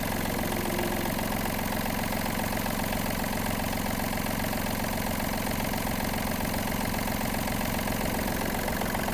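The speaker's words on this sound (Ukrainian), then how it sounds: "Гарна, чиста робота двигуна." The small diesel engine of a Japanese Yanmar RS-30 mini tractor idles steadily nearby, its low, even chugging rhythm unchanging from start to finish.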